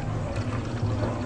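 Bottled water poured into a Dutch cold-brew coffee dripper makes a brief, steady, close rushing splash with no talking.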